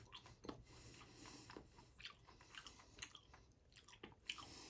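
Someone bites into and chews a cannabis rosin gummy belt, giving faint, close, irregular squishy bites and chewing with no talk.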